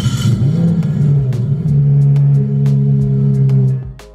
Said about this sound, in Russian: Нажатие на кнопку запуска двигателя активирует аудиозапись рева мотора V8 от реального